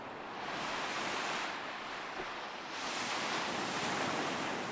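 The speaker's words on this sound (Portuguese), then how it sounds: "Dá pra ouvir as ondas já." Ocean waves washing onto a shore at low tide, a steady broad roar that swells and recedes twice, with some wind noise, no voices.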